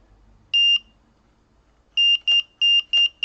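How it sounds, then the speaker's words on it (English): A Delkim carp-fishing bite alarm set to a low sensitivity emits a single clear electronic beep, then after a pause a quick run of five sharp, loud tones close by, with no talking. "I can now get more beeps for the movement."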